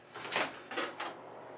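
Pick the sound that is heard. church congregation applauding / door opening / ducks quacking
door opening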